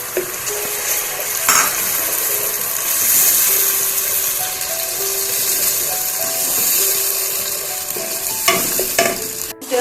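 Tomato puree goes into a pan of frying onions and is stirred, giving a steady sizzle and hiss with occasional clinks of the spoon against the pan, close and continuous throughout.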